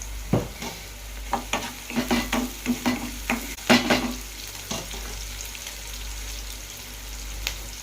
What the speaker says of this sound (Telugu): ఉల్లిగడ్డ బ్రౌన్ కలర్ వచ్చేంత వరకు వేపుకోవాలి